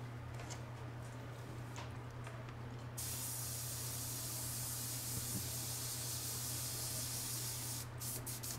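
An airbrush sprays dark gunship gray paint onto a scale model, a close, continuous airy hiss that grows louder and brighter partway through and stays steady to the end, with no talking.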